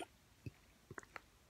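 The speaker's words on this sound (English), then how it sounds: "Got the hiccups there." Several short, abrupt hiccups, four soft gulping catches spaced unevenly across a second and a half, close and quiet against a low background with no talk.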